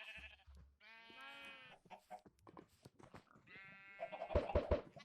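Minecraft sheep bleat in repeated wavering calls, several overlapping bleats spaced through the stretch and growing louder and more clustered toward the end, heard clearly without any talk over them.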